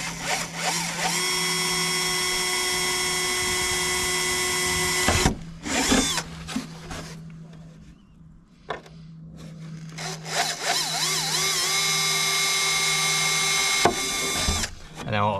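A drill bores holes through a fibreglass front bumper for a 1992 Z32 Nissan 300ZX, a steady loud whine running for several seconds, stopping briefly with a few clunks, then starting again close to the microphone.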